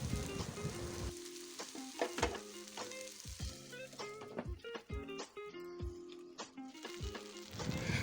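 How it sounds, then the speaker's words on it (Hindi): Brinjal pieces fry in a pan over medium heat with a bright, crackling sizzle. A spoon stirring them in the pan gives several sharp knocks and scrapes, close up and with no voices. "अब ये फ्राई होने लगे हैं।"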